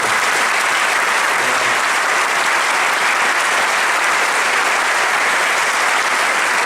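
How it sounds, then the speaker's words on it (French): A big audience at the Vendée Globe prize-giving claps for a skipper's team, producing loud, unbroken, thick applause that holds at an even level throughout with no voices breaking through. "il faut les applaudir"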